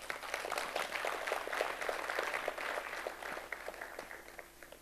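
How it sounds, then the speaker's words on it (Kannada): An audience at a lifestyle talk by Dr. Khadar Vali breaks into steady, fairly faint clapping that holds for several seconds and then thins out toward the end. "ಚಪ್ಪಾಳೆ ಕೊಟ್ರಿ, ಈಗ ಕೊಟ್ರಿ."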